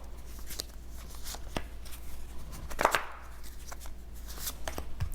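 Lenormand and Tarot cards are shuffled and drawn, giving soft papery riffles and taps. One louder flutter comes midway, over a quiet low hum.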